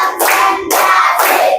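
Pupils in a classroom clap in unison during a counting clap game, three loud group claps in steady rhythm, close and full.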